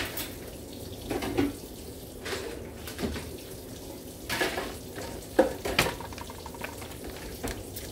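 Dishes being rinsed under a running kitchen tap, water hissing steadily with occasional clinks and splashes of crockery, moderately quiet and close, with no talking.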